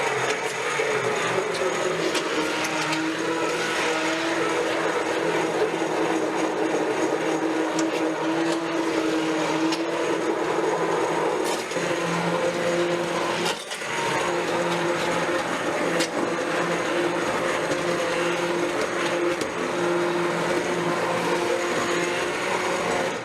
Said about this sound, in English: So now I'm just going to use my hand blender,